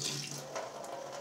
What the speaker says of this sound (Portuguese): Vou colocar um pouco de sal, muito pouco, e água para escaldar.